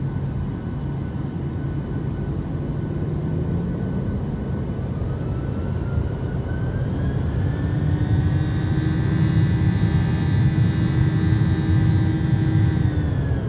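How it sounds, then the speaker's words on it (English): Jet engines of a PMDG 737-800 in Microsoft Flight Simulator spool up from a low whine to a loud, steady roar, rising tones climbing as thrust builds, heard from a window seat with no voices. "I'm gonna spool up my engines, like all the way up. We'll take a listen."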